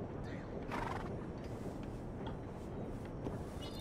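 A horse in the Western video game Red Dead Redemption 2, played on a RedM roleplay server, whinnies amid clip-clopping hooves and ticking game sounds, all faint and distant, with a few short loud bursts.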